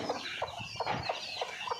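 A hen clucks in a short series of soft, evenly spaced calls, about six in under two seconds, fairly close with no talking.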